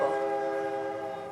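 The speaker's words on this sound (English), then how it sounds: "Train." A train sounds a steady, sustained horn blast at moderate loudness, with no voices over it.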